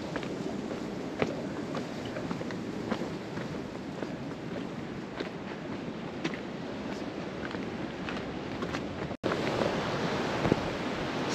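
Ocean waves rolling and breaking on Muttom beach near Kovalam, Kerala, a steady loud surf wash mixed with wind noise on the microphone, with a brief dropout before the roar resumes.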